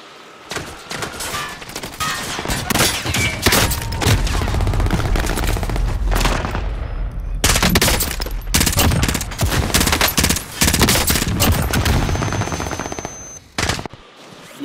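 Hit-scan weapon gunfire in a video game, loud sustained bursts of rapid automatic shots with heavy booming impacts, firing almost continuously with a few short breaks.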